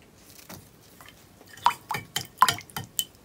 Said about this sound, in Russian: Растворяю соль.